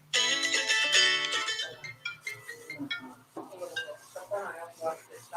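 A phone rings with a melodic electronic ringtone, loud at first and then fading, as a person talks over the tone toward the end.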